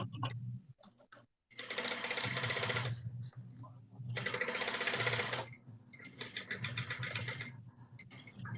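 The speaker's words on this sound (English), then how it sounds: "I'm sewing it at a stitch length of 3." A sewing machine stitches a bag seam at stitch length 3 in bursts of rapid, close mechanical whirring. Three long runs are separated by short pauses.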